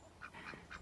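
A pet duck quacks in a yard, several short nasal calls spaced through under a second, moderately loud against a faint background.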